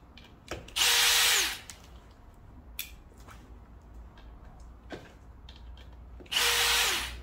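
A power driver backs a screw out of a Ryan Solo stroller in two short loud whirring bursts, separated by quiet handling clicks and taps of the parts nearby.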